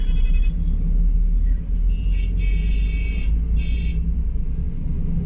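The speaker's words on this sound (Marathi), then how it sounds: "आणि हे पुण्याचं ट्रॅफिक." Road traffic in Pune heard from inside a bus: a constant low engine rumble and road noise, with a couple of brief horn toots in the middle.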